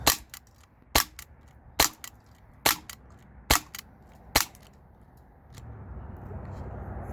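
Six sharp cracks from a CO2-powered replica Glock 19 BB pistol fire at an even pace about a second apart, each shot crisp and loud over quiet room tone, followed by a low rumble of background noise.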